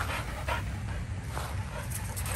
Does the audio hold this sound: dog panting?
yes